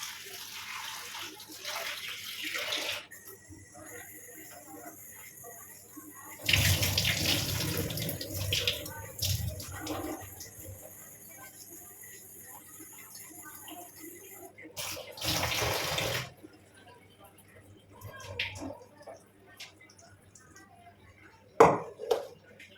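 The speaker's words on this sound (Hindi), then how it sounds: "अब मैं इसको पानी से भिगो देती हूँ।" Tap water running over poha (flattened rice) in a home kitchen to soak it, heard in a few splashy bursts between quieter stretches, with a sharp clink near the end and a voice speaking at times.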